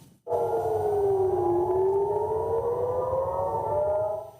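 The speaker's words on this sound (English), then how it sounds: "sirens sounded in several Israeli cities overnight as a result of Iranian missile attacks" An air raid siren wails over an Israeli city during Iranian missile attacks, one loud sustained tone that dips in pitch and then slowly rises again, filling the space for several seconds.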